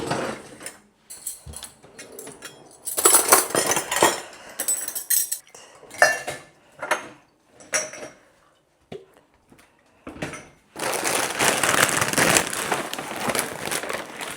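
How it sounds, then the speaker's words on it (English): Pots, pans and cutlery clatter and clink as they are loaded into a dishwasher, with irregular bursts of metallic knocks and scraping, then a longer sustained rattle near the end. "do you put your pots and pans in the dishwasher?"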